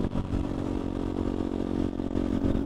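A Yamaha XTZ 125 dirt bike's single-cylinder engine idles steadily up close, a loud, even low rumble with slight clattering fluctuations throughout.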